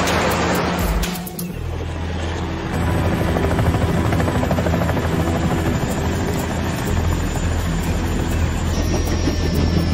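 A helicopter drones loudly and continuously in an action-film scene, its steady rotor roar filling the whole stretch, with a brief dip early before it settles into a heavy, sustained thrum.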